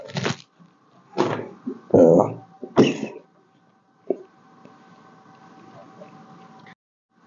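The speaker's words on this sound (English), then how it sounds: "sorry, I had a cough." A few sharp coughs and throat-clearing bursts come close together near the microphone during a teleprompter unboxing, followed by a faint click and quiet room tone.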